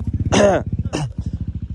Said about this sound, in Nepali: आशी भाइ बाइक लिएर आउँछ